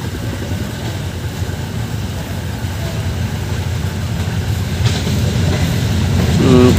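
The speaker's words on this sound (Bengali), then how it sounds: "ট্রেন চলে আসছে দ্রুতগতি। ট্রেন চলে গেল" A fast train rushes past close by, its broad rolling rumble steady at first and building louder toward the end, with no talk.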